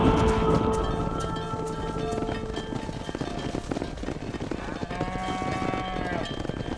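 A herd of cattle in Red Dead Redemption lowing and mooing repeatedly amid a busy outdoor game soundscape, several overlapping calls at mid distance with some speech mixed in.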